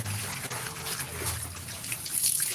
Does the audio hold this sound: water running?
yes